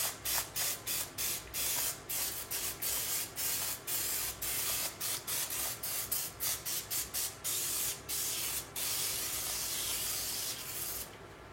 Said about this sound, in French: avec mon petit appareil, j'ai fait un petit mélange de jaune d'œuf et de lait. Et on va venir vaporiser comme ça